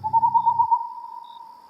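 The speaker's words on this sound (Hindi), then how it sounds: "फड़फड़ाते पंखों की आवाज के साथ एक काला उल्लू आकर गाब के पेड़ पर बैठा" A black owl hoots at night in a stormy horror-story scene: one loud, sustained, hollow tone with a brief low rumble beneath its opening moments.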